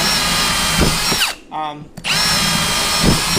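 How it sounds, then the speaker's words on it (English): A cordless power drill whines steadily while boring holes for floating fish tanks, running loud and close, briefly stopping and then spinning back up again. "I'm going to drill all these and I'll be back"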